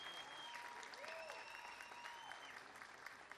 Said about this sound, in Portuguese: mais uma salva de palmas para a ministra da Cultura do Brasil